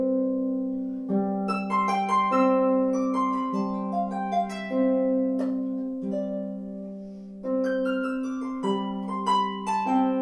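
Solo harp improvising with syncopated rhythms, sixteenth-note figures and full chords, a steady low bass line under bright plucked upper notes, played continuously and close with no voices.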